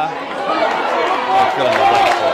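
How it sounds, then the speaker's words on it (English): Crowd of spectators at a junior rugby league game for the Botany Rams, loud and steady with overlapping chatter and shouting throughout. "Decent crowd in here too. Very vocal."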